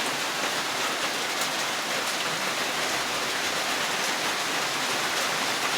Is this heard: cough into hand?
no